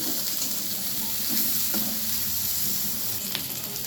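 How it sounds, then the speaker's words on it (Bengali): Green plantain slices frying in hot oil, giving a steady, dense close-up sizzle with faint stirring clinks, and no voices. "কাঁচা কলাগুলো আমি খুব সুন্দর করে ভেজে নিলাম"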